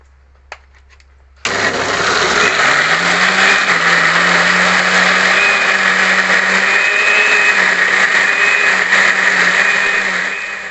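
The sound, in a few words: blender blending spices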